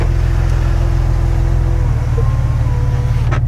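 A worn, rattly Porsche Boxster runs with a loud, steady engine drone close by, rough and buzzing throughout with no clear revving.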